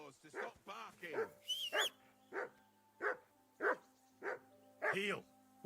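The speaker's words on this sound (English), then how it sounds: "That barking was a pain." A dog in Kingdom Come: Deliverance 2 barks repeatedly in the medieval game world, loud and near, in a steady rhythm of about nine barks mixed with speech and a whine.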